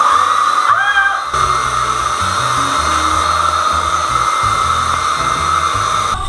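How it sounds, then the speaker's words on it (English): A hair dryer with a diffuser attachment blows loudly and steadily with a high whine, briefly dipping near the start before running on continuously, close to the microphone with no voices. "I took a break from drying my hair because it was literally taking a long time"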